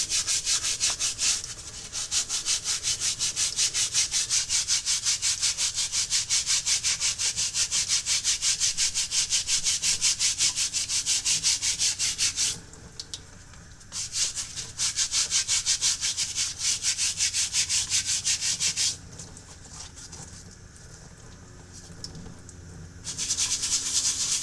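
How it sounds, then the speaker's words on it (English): Steady, loud brushing and rubbing as Nike Foamposite Pro gray wool shoe insoles are scrubbed during cleaning, continuous strokes with two brief pauses where the scrubbing drops to a quieter, thinner rustle. "I'm going to go ahead and scrub these insoles out one more time"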